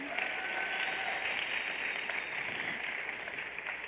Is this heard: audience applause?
yes